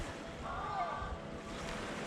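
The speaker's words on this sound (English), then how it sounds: "it's just getting bounced around by the waves" Ocean waves wash and rumble around a small underwater drone as it is bounced about, a steady churning noise with wind-like buffeting and a brief faint whine in the middle. No talking.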